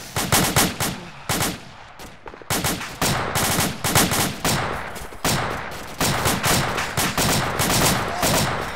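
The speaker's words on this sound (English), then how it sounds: "He's firing at everybody." Automatic gunfire rattles in an Arma 2 firefight: rapid bursts of sharp shots, loud and close, broken by brief pauses before starting up again, with no talking over them.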